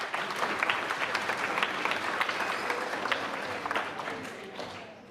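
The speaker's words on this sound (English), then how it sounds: "a quick round of applause for Quinn" Audience applause at a school awards day, a steady round of clapping from a seated crowd that holds for several seconds and starts to fade near the end.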